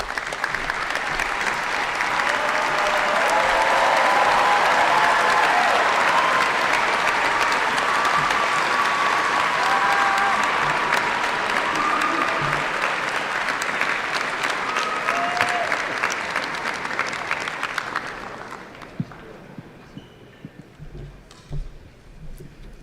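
Graduates and guests at a university School of Business commencement applaud in a broad, swelling wash of clapping that holds strong for many seconds, then fades away to near quiet with a few stray claps.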